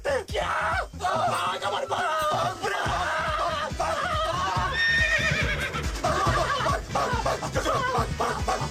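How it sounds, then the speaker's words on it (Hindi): A horse neighs and whinnies repeatedly, loud and close, with hoof clip-clop, laughter and other film sounds in a comedy scene. "तूफान ने हमें घोड़ी के कॉस्ट्यूम में देखकर सचमुच की घोड़ी समझ लिया है"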